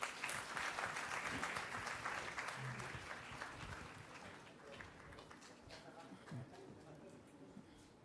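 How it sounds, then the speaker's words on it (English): Applause from the audience at a governor's felicitation ceremony, a sustained round of clapping that starts strong and gradually thins, with some faint voices mixed in beneath it. "amidst a good round of applause."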